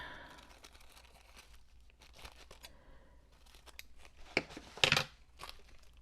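Scissors trimming paper for a gel-print collage, a few quiet crisp snips and paper rustles scattered through, with a louder sharp cluster of cuts near the end, no talking.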